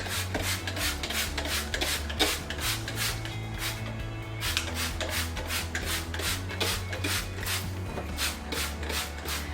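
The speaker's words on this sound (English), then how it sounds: "I'm going to spray that, and I'm just going to scrub, scrub the bottom of this down" Rhythmic scrubbing strokes rasp back and forth steadily and close by on the bottom of a dishwasher interior, over a low humming background.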